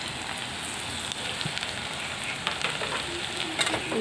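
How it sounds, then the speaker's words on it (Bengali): Garlic frying in a pan with onion already browned for a fish curry, heard as a steady close crackling sizzle with faint stirring scrapes and no talk. "রসুনটা দিয়ে একটু ভাজা ভাজা হয়ে গেলে"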